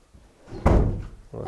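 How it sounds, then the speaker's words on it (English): A door shuts with one solid thunk close by, followed by a short softer knock, in an otherwise quiet room. "for shutting the door behind you"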